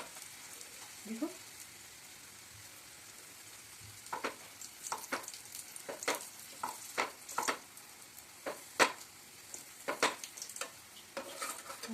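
A potato-stuffed aloo paratha fries in a pan over medium heat, with a faint, low sizzle under a series of sharp taps and scrapes from pressing and handling, close and intermittent.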